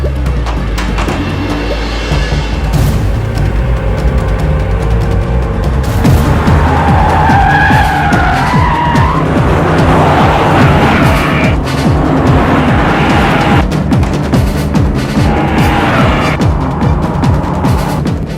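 A car skids and pulls away in a Telugu action-comedy film scene, with loud squealing tires and a roaring engine that run continuously for the whole stretch.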